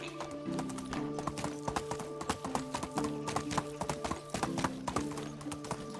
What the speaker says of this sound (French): On va prendre le cheval, ça ira un peu plus vite.